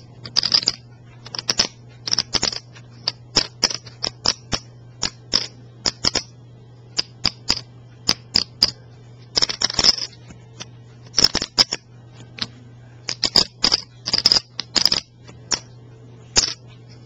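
Scratch-resistant poker chips are shuffled by hand, producing rapid clusters of sharp clacking clicks in irregular bursts against a quiet background with a faint low hum.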